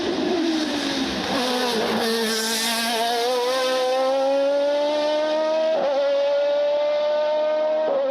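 An Osella FA30 race car drives hard, its engine a loud, continuous high-revving whine that climbs steadily through the gears, with brief dips at shifts.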